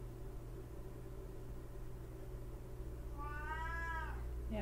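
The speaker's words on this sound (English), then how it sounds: "I want to tend to this kitten over here" A kitten meows in a short run of rising and falling calls near the end, close and clear over a steady low hum.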